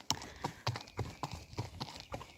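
A horse walks on a yard path, its hooves striking in a steady, even clip-clop rhythm of about eight close, fairly distinct footfalls.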